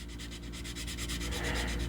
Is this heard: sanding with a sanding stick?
yes